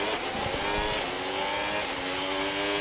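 A race car engine in a Formula 1 video game, revving high and smooth with a steady whine that holds across the short stretch, loud and close with no talk over it.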